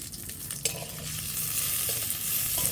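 Green chilies and garlic frying in oil in a village kitchen, a close, steady sizzle with stirring scrapes that grows slightly louder over a few seconds, with no talk.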